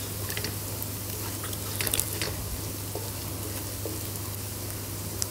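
Garlic paste sizzling in a pan for goat liver masala, a steady soft frying hiss with faint crackles and pops throughout, no talk.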